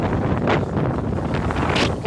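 Steady wind at a ski slope buffets the microphone, a dense rumbling roar with gusty surges that rise and fall, continuous throughout.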